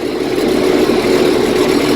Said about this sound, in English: What I'm driving here is a real International